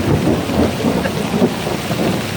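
Loud, close thunder rumbles continuously through a heavy autumn downpour, low booming swells rising and falling over the steady hiss of rain on surfaces, with no talk.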